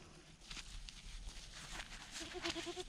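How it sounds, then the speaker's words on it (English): A leash-trained goat lets out a short, faint wavering bleat near the end, amid soft rustling and scuffing nearby. "You a leash trained goat, buddy?"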